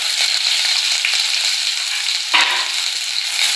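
Onions sizzling steadily in hot oil with cumin, garlic, curry leaves and dried red chillies for an arai keerai stir-fry, a dense continuous crackle with a brief louder stir near the middle and no talk.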